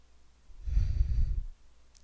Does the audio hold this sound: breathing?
yes